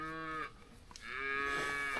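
Calves on a ranch low repeatedly in drawn-out moos, one call fading before a second, longer bellow rises, fairly close and clear over quiet outdoor background.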